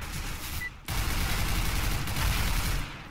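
Gunfire in a CS:GO warm-up round, a dense, continuous clatter of overlapping automatic shots that breaks off briefly and then resumes just as thick, loud and busy throughout.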